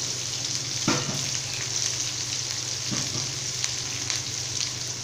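Seasoning sizzles in hot oil with onion and curry leaves for a ridge gourd pachadi as four crushed garlic cloves go in. A continuous close hiss and crackle carries a few soft clatters from the pan, with no talking.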